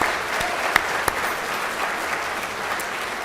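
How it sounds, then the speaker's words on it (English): Round of applause from the audience at an OKMHF induction evening, a steady, even clatter of many hands with a few sharper claps standing out near the start, going on without any talk. "please acknowledge our supporters with a round of applause"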